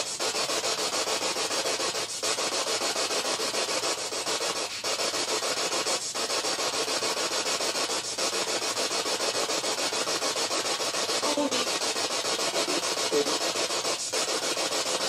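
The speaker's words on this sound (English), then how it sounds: "Alright, let's do a spirit box session." Spirit box radio scanning during a ghost-hunting session in a reputedly haunted house: a steady wash of loud static hiss, broken by brief dropouts every couple of seconds as the tuner sweeps, with no voices.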